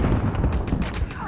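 A frag grenade goes off in Call of Duty: Modern Warfare, a loud, close, dense blast that fills the short moment with rumbling noise and crackling debris.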